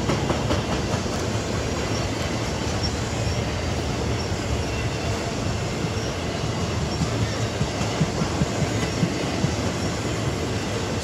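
A Norfolk Southern freight train carrying double stack and single containers rolls past up close in Phillipsburg, New Jersey, its wheels rumbling and clattering steadily and loudly from start to finish.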